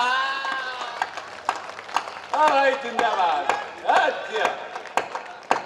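An audience at a live Hindi comedic poetry event breaks into scattered bursts of clapping while voices call out and someone speaks over it, the applause sharp and near.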